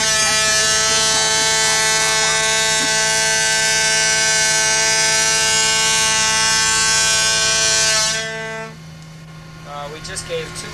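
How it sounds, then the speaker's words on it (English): A ship's foghorn sounds one long, loud, sustained blast for about eight seconds, then cuts off, leaving faint background noise. "Would you please blow your foghorn?"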